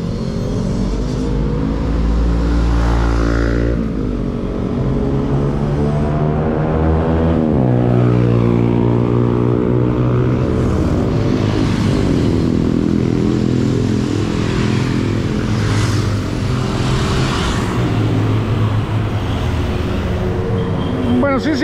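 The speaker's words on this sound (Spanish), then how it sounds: "Sí, hay tráfico, pero no como el otro lado." Steady city traffic on Seventh Avenue in Zone 9 of Guatemala City, cars and motorcycles passing close with engine revs rising and falling, loud and continuous under occasional voices.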